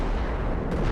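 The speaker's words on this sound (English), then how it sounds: "Nice AT gun hit." Heavy explosive impact from an anti-tank gun shell striking in Company of Heroes, a dense sustained boom filling the whole short moment with low rumble.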